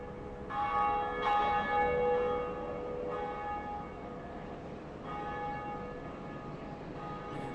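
A church-like bell rings in the Dark Souls video game, several resonant tolls spaced a couple of seconds apart, each leaving a long, fading hum.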